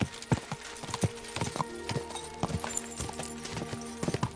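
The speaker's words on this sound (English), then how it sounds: "That looks like a bloody expensive horse." Horse hooves clip-clop in a steady, uneven walking rhythm in the medieval game Kingdom Come: Deliverance 2, close and fairly loud over a faint ambient bed with no talk.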